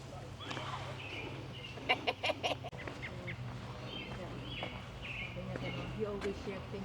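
A duck or goose honks a few times in castle gardens, the calls fairly faint and scattered among outdoor ambience while people talk nearby.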